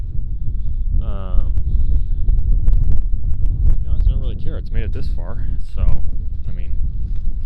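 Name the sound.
strong wind blowing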